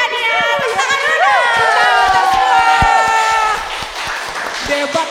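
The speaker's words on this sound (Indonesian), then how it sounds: "Tepuk tangan dulu." A crowd at a Sunday school event claps steadily with rapid hand claps while excited voices shout and cheer over the applause.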